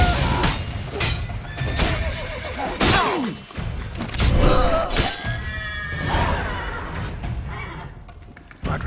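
A horse in The Witcher 3: Blood and Wine gives a few whinnies amid thumps, crashes and shattering noises from a chaotic game scene, fairly loud and close.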